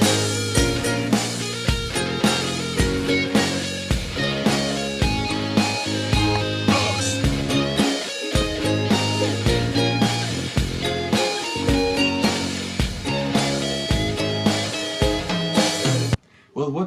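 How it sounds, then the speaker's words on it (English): A ukulele with distortion, sounding like an electric guitar, plays a melodic solo riff with steady rhythm, loud and continuous, ending abruptly near the end. "it's actually ramped up with some distortion to make it sound like a big live stage electric guitar"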